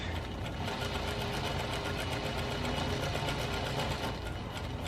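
Sewing machine running continuously in a forward stitch, a steady, close, rhythmic mechanical whir and chatter with an even pulsing beat and no pauses.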